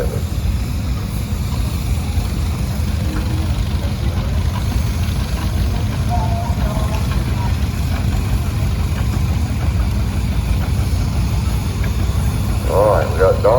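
A 1953 John Deere 60 tractor idles in a show parade with a low, steady engine chug. Voices carry faintly over the open outdoor air above the continuous rumble.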